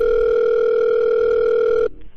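A steady telephone dial tone hums loudly and alone for nearly two seconds while a call to the Korean railway corporation is placed, then stops abruptly.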